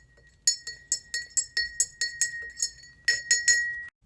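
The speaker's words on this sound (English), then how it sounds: "Let's give that a stir with our tiny spoon." A tiny spoon stirs inside a glass jar, giving about fourteen bright, evenly spaced clinks against the glass, close and clear with no talking.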